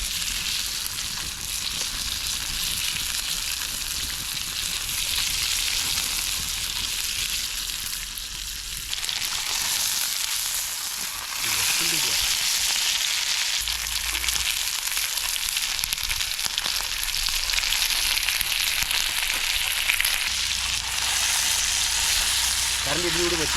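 Marinated fish fries in hot oil in a pan, giving a steady, dense sizzle and crackle that grows louder as more pieces go in, with occasional stirring clinks close by.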